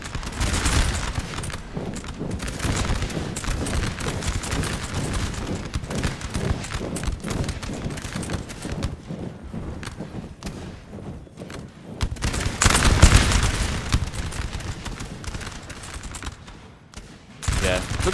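Musket volleys and artillery fire crackle through a Napoleon Total War battle for a town at Valmy, 1792, as dense, continuous massed gunfire with heavy booms, loud throughout, brief lull near the end.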